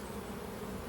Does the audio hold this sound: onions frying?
no